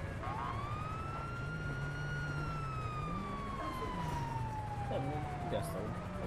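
Wailing police car sirens from two cruisers arriving in GTA 5 FiveM roleplay, a steady rising and falling tone close and loud throughout, with game engine rumble beneath and a voice talking over it.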